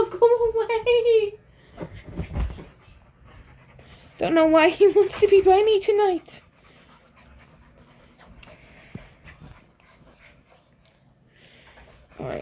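A dog pants close by in short rhythmic bursts, interspersed with soft whimpering, while someone talks over it at intervals.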